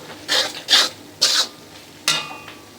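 A spatula scrapes through spice paste being stir-fried in a pan for prawn malai curry, four rough rasping strokes at close range separated by short pauses.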